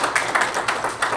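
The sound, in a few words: audience applause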